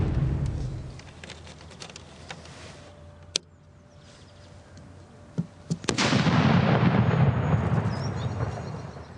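A professional display firework goes off with a sharp bang near 6 seconds, followed by a loud, sustained rumbling roar, after a quieter stretch with a few isolated cracks.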